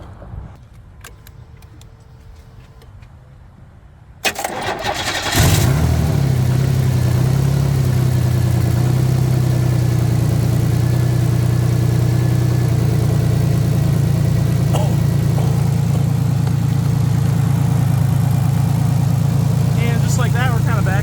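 After a jump start from a portable jump pack, a car engine cranks over in a sudden burst following a quiet stretch of faint handling noise. It then settles into a steady, loud, humming idle that continues to the end.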